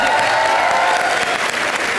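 Studio audience applauding loudly at a live Hindi comedy show taping, a steady dense wash of clapping that fills the whole moment without a break.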